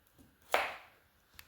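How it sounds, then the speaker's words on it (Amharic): Potatoes cut into pieces for boiling, one sharp knife chop on a board followed by a faint second tap, in a quiet kitchen. "ድንቹን ቆረጥ ቆረጥ ነው የማደርገው"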